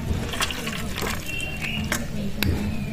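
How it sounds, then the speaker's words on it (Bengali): Liquid pours and trickles steadily into a pan while making a Bengali steamed egg curry with ghee, a continuous watery flow with a few brief clinks, close and moderately loud, with no talk. "এবার ঢেলে নেব।"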